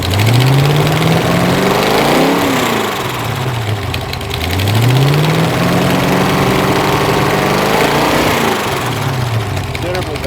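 A Mopar LA small-block V8 idles with a lumpy, rising-and-falling rumble, its exhaust giving off small irregular pops from back pressure throughout.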